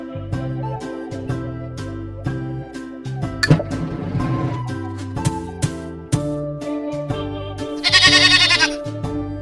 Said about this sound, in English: Where is the goat?